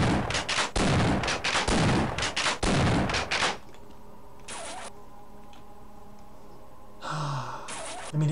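Shotgun fire in Half-Life: a fast run of loud, close blasts with hard attacks, then quieter game ambience with a few scattered shots and effects.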